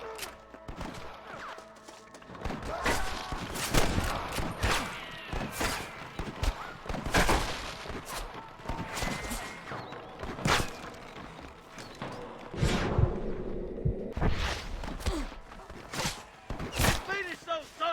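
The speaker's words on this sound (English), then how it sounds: "I can hear more gunshots." Gunfire in Red Dead Redemption: sharp repeated gunshots scattered through a Western shootout, some loud and close, others farther off, mixed with game sounds and occasional voices.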